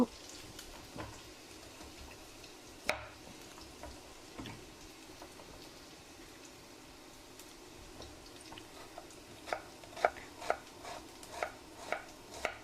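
Quiet, irregular knife taps on a cutting board as ginger is chopped by hand, growing into a steady run of sharp chops toward the end, with faint background noise.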